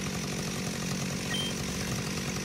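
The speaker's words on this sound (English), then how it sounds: "Is there someone with a chainsaw there?" Steady chainsaw engine snarl in a horror video game, droning continuously and fairly loud with a gritty cutting texture throughout, no voices.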